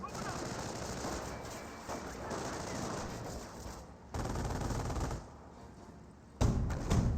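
Small arms fire from a Company of Heroes 1 match, US against Wehrmacht, crackling in dense bursts of rapid shots with explosive thumps, continuing through most of the stretch and swelling louder near the end.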